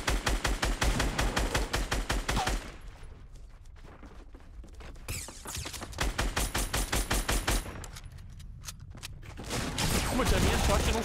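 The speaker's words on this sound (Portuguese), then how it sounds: "Tá atirando, Mamute." Minigun firing in Fortnite: long loud streams of rapid, evenly spaced shots, pausing in the middle where someone speaks Portuguese over quieter game sound, then resuming.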